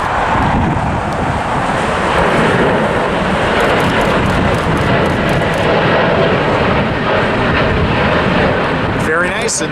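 An Asiana Airlines Airbus A350 jet takes off at LAX, its engines producing a loud, sustained broadband roar that stays steady throughout, with wind buffeting the outdoor microphone.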